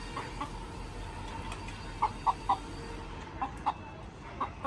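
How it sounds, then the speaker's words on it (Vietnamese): Chickens cluck in a rural family vegetable garden, a few sharp, fairly close clucks in quick bursts over a quiet outdoor background with no talking. "Con gà cây lắm mồm thật đấy."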